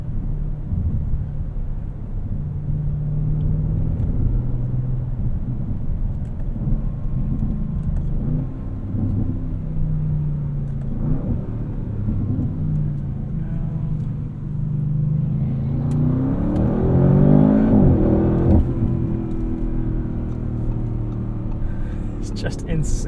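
A 2024 Audi RS7 in sport mode drones steadily while driving, its engine rising into a louder surge of acceleration late on before settling. Someone speaks over the cabin rumble.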